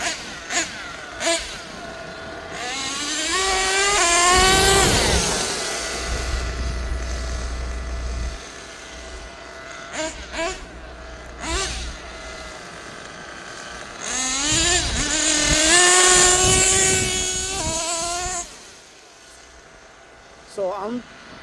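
A small high-pitched nitro engine in a Kyosho USA-1 RC truck whines and revs up and down as it drives, with shifting pitch sweeps, while someone talks excitedly over it.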